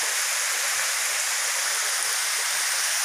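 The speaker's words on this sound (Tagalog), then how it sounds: "Hinay iyang falls kay hinay nagtubig." A small mini waterfall in the Philippines runs with low water, giving a steady, even rush of broadband splashing and hiss that holds at a moderate level throughout, with no voices.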